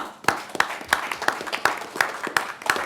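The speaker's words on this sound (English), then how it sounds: "Let's give South Bend Brew Works a round of applause." A small group at a county board of commissioners meeting gives a round of applause for South Bend Brew Works, with sparse, evenly spaced claps standing out sharply rather than blending into a roar.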